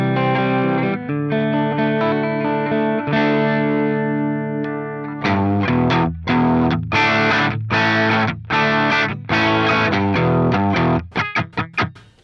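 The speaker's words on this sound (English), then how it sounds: "As you can see here today I'm playing an SG and I'm going into a Marshall amp" Gibson SG electric guitar played through a Marshall amp with no EQ, starting with sustained ringing chords, then moving into choppy strummed rhythm with quick muted stabs, loud and close.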